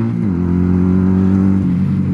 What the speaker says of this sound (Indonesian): sensasi tarikan mesin, belepotan bah